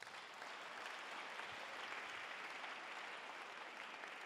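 A church congregation breaks into sustained applause, a dense even wash of many hands clapping together that carries on steadily from start to end, fairly distant and without distinct voices.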